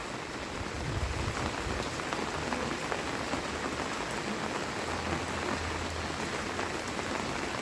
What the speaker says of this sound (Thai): บรรยากาศตอนฝนตก